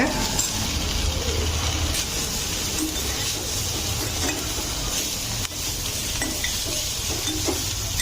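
Onions tossed into a pan of frying chicken and stirred, with a continuous sizzle, scraping of a spoon against the pan and occasional clinks, close and fairly loud.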